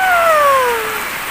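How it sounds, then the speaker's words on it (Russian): Heavy rain pours down in Batumi as a steady, loud hiss of falling water, with a faint descending whistle-like tone gliding over the downpour for about a second. "Посмотрите, друзья, какой дождь."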